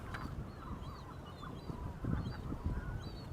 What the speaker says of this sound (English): seagull is nagging her partner